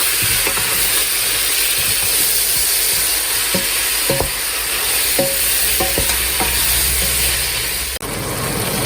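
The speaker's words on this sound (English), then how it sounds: "and then I'm going to let it cook" Oats with chicken, cumin, turmeric and garam masala cook in a pan with a steady loud sizzle and hiss, broken by a few faint utensil taps.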